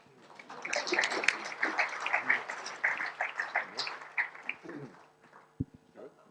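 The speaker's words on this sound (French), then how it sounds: "Merci de vos applaudissements." Modest audience applause at the closing session of a cooperative and mutualist conference, a scattered patter of clapping, fairly faint and distant, with a few voices murmuring underneath before it thins out and stops.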